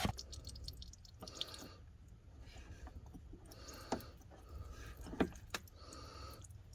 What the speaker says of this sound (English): So as we have constant water coming out,